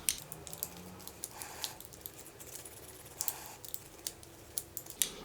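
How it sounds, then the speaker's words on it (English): A small wooden burnishing stick rubs hard over foil on a soldered pendant, giving a quick series of close, dry scratchy strokes and light clicks with brief pauses, no voices. "So I'm going to take my little burnishing tool, again, you guys know is my little wooden stick, and I'm going to burnish the crap out of this foil."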